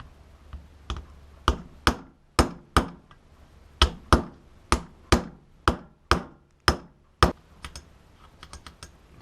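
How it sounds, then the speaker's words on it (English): An old bearing is used as a driver while a hammer knocks a new wheel bearing into a Honda CB350 motorcycle hub. About seventeen sharp metallic strikes come in a fairly steady rhythm, close and loud, with quiet gaps between them and no talk. "we'll use the other old bearing and start smacking it in."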